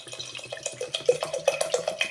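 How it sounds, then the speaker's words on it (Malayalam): Water is poured into a cooker holding broken wheat, a close splashing, trickling flow with small irregular gurgles and drips over a couple of seconds. "1 ലിറ്റർ വെള്ളമാണ് ഞാൻ ഒഴിക്കുന്നത്."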